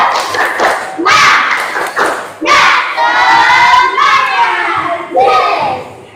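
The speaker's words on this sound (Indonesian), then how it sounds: "Tepuk semangat." Group of children doing a rhythmic spirit clap chant in a classroom, loud sharp claps in bursts mixed with shouted chanting voices, close and energetic.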